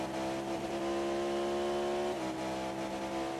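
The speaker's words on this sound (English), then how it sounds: "It sounds like he's up on the rev limiter." Race car engine held near its rev limiter in an endurance race at Silverstone GP, a steady loud buzzing drone with a slight pitch dip partway, no talk.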